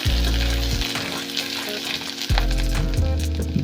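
Grated coconut fries in hot oil for a spinach (palak) dish, a loud close sizzle and crackle with deep thumps and scrapes as it is stirred, no voices.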